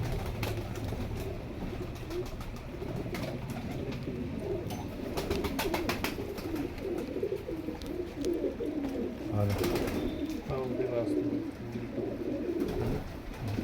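Teddy pigeons kept at home coo in repeated soft low calls, with a pair of birds nearby, while someone talks over them and occasional clicks and rustles sound in between.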